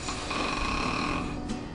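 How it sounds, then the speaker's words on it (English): A person snores in a short, steady rasping breath that fills the whole moment, close and fairly loud with no other sounds. "Snoring comes from a vibration in the airway that's normally due to a partial blockage of the airway."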